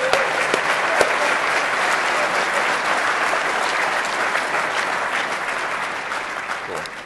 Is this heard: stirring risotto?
no